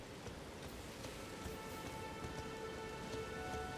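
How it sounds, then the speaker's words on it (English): Steady rain falls in the video game Elden Ring, a dense, even hiss of drops that stays level and fairly close throughout, with faint tonal game ambience underneath and no talking. "Oh, it's raining."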